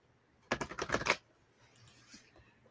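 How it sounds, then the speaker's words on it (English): A deck of tarot cards is given a single quick riffle shuffle, a dense burst of crisp flutter lasting under a second, close and quiet, followed by soft rustles and near silence. "Let me give one more shuffle here."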